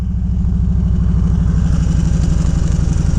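A 2000 Harley-Davidson FLHTCUI cruiser engine running close by, a loud, steady, deep rhythmic potato-like throb with evenly pulsing low-end beats throughout, no voices.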